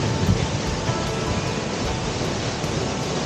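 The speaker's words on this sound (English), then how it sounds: "a lot of water coming down there in the morning, so I don't know if you can hear me" Steady broadband rush of a waterfall in the mountains, a continuous roar of falling water holding even and fairly close throughout with no voices.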